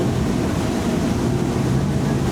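A Wellcraft 28 T-Top boat cruises at about 3,300 RPM, near 28 mph, giving a continuous low engine drone mixed with hull rush and buffeting wind noise, steady and close throughout.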